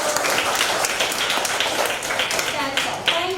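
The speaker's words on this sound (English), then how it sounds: "Clap for joy." Students in an English-medium high school classroom break into brisk applause, a busy crackle of many hands clapping at close range for a few seconds, with voices faintly mixed in.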